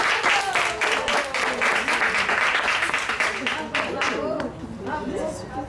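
Children clap their hands loudly at a storytelling session, a dense burst of small-hand applause mixed with lively chatter that eases off near the end.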